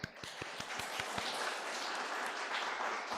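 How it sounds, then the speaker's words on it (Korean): A church congregation claps to welcome a member during a Korean church service, starting with a few distinct near claps and swelling into soft, dense applause at moderate distance. "우리가 큰 박수로 환영하겠습니다"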